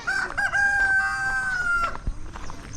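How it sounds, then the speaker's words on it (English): A cock crows near farm plots on the outskirts of Kisumu, one long clear call with steady background noise and a few knocks behind it. "The cock is crowing."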